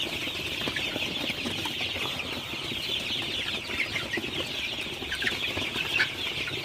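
Sonali super hybrid chickens clucking steadily in a flock at night, a dense continuous chatter of many birds close by with no talking.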